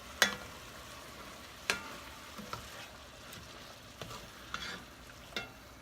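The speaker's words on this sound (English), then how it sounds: "Get everything all mixed together. Let the black beans heat up." Black beans and kielbasa heat in a pan under a quiet, low sizzle, punctuated by six sharp scrapes and knocks of a utensil stirring at irregular intervals, close and alone.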